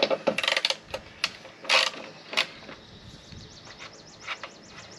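Metallic ratcheting and clanking as bolts are loosened from the underside of a lawnmower seat, with short bursts of wrench clicks and a few sharp knocks, close up.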